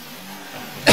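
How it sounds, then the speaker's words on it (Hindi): One short, sharp cough bursts out at the very end, close and loud after a brief stretch of quiet background hum. "बस खांसी है"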